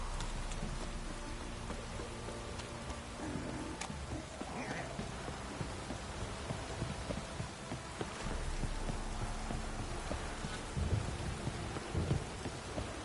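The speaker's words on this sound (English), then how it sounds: "This downpour's a bastard" Steady heavy rain pours throughout in The Witcher 3 video game, a dense hiss with occasional low rumbles, fairly loud and continuous.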